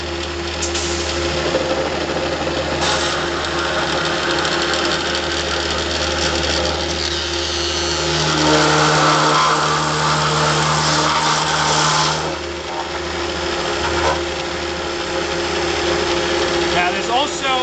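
A milling machine cutter spins steadily throughout, a dense mechanical whine with a low hum beneath, rising briefly in load partway through as it engages the workpiece before easing back.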